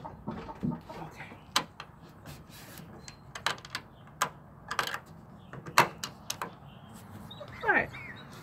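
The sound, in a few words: chicken coop door being closed and latched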